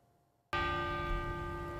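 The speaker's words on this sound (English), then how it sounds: "The bells of St. Agnes tolled 47 times for 47 lives lost." Church bells of St. Agnes tolling in memory of 47 lives lost, a single loud bell strike after a moment of near silence, its rich ringing tone sustained and slowly decaying, close and alone.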